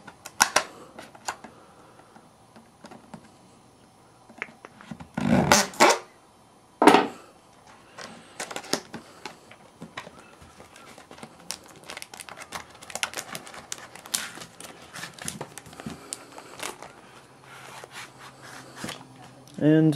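Cardboard packaging for an Apple iPad case is opened up close, with scattered taps, scrapes and sharp crinkling bursts, plus a couple of louder cracks early on, among quieter handling noise.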